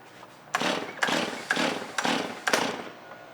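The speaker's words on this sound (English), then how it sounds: "I'm gonna pull it, 15 times on choke, it's gonna be flooded." A chainsaw's starter cord is yanked five times on choke, each pull a sharp rasping whir that fades before the next, evenly spaced and close up, with no engine catching.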